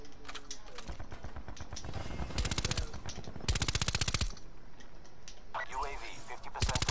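A VMP submachine gun fires in Black Ops 4, with several rapid bursts of fast automatic fire heard up close and scattered game effects between them, while a voice speaks faintly.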